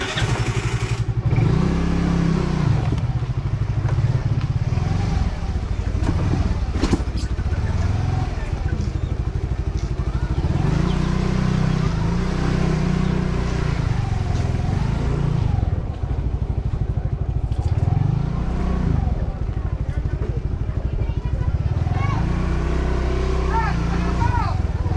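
A motorcycle loaded with two coolers of goods rides along with a steady engine drone that rises and falls in repeated revving swells, while a rider talks over it throughout.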